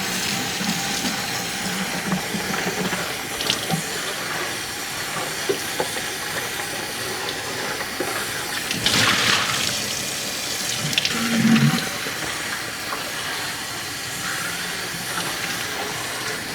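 Sanitizer is rinsed through a three-piece airlock during a one-gallon homebrew beer setup, giving a continuous close hissing, splashing flow with a brief louder gurgle near the end.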